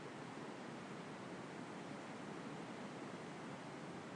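A river current rushing over rocks at Belle Isle makes a steady, broad hiss of flowing water, soft and even throughout with no voices.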